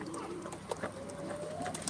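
A pouter pigeon gives a few soft, low coos nearby, brief pulses scattered over a steady background hum with a faint rising whistle, and no one speaks.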